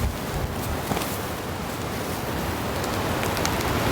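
Strong gusting wind of a winter blizzard sweeps across an exposed ridge at a snowy campsite, a loud, continuous broadband roar with steady buffeting and no talk.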